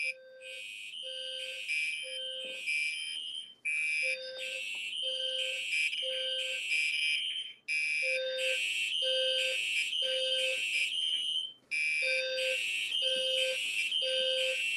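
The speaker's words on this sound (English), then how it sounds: "You can see all my fire alarms going off in one video," Three or four household fire alarms in different rooms beep together indoors, loud overlapping shrill tones in a rapid repeating pattern with brief pauses, no talk.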